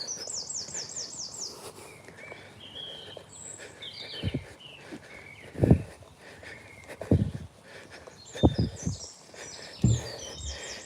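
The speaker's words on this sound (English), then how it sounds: "listen to this lovely bird song." Songbirds chirp and whistle in short high phrases on a rural morning dog walk away from town, with soft thuds and footsteps nearby and faint background rumble.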